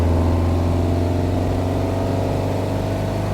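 A 1971 VW Square Back's air-cooled engine lugs in third gear from the passenger side, a steady, loud, low droning hum with strong low harmonics that holds evenly throughout, no voices.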